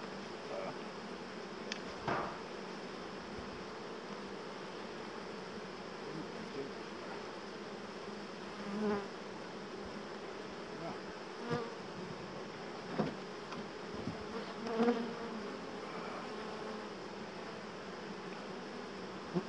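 Bees buzzing around an opened beehive as the frames are lifted out, a dense, steady drone close by with occasional louder individual bees passing near and faint handling knocks.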